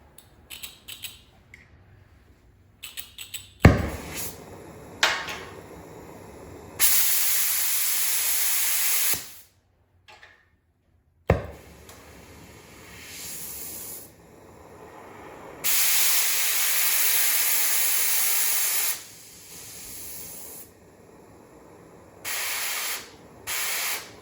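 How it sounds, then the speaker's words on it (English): An oxy-fuel cutting torch burns through seized, rusty bolts on a 1981 Chevrolet truck under restoration, giving loud sustained roaring hisses in several long bursts, broken by short pops, clanks and brief quiet gaps. "So I'm using the old fire wrench. Just gonna cut them off."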